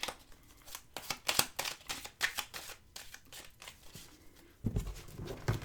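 A deck of tarot cards is shuffled and split into two piles, giving a run of crisp, riffling card flutters and soft slaps that come in bursts, close up and with no talking.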